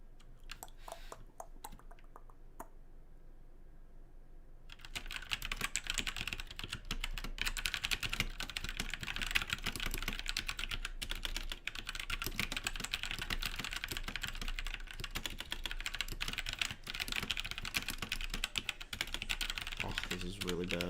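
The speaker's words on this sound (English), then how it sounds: "I'm gonna type so fast, if you blink," Rapid typing on a computer keyboard during a quick typing race, with dense, fast key clatter that keeps up continuously after a few scattered keystrokes at the start.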